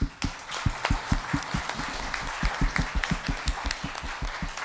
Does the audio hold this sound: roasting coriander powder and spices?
no